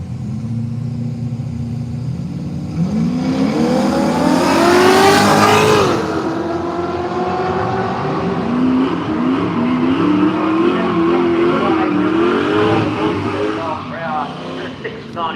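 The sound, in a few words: drag racing car launching against Holden station wagon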